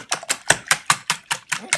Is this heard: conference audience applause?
no